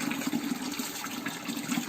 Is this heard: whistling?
no